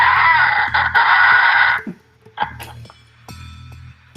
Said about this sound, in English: Loud shrieks.